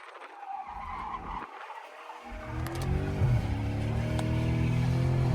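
A Dodge Scat Pack spins and slides its tires in city traffic, starting with rough engine noise and a brief squeal before building into a loud, sustained tire screech layered over the roaring engine.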